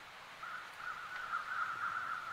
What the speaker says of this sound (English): Yeah, I heard crows.